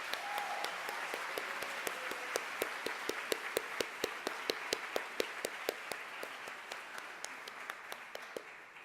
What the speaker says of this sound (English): And now I would ask you to give all these people a hearty round of applause.